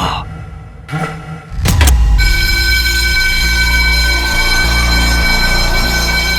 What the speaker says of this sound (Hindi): अब ये फायर अलार्म किसने बजाया?